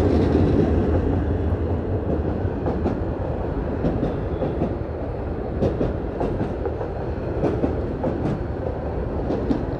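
A train passing on a railway line in Rangunia, heard up close and loud, a continuous rumble with repeated clickety-clack wheel beats and rattling carriages throughout.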